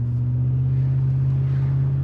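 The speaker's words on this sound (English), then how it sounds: "Oh, that exhaust sound." Steady low exhaust burble from a W124 Mercedes, a smooth constant idle-like hum with a deep drone, close and moderately loud, with no speech.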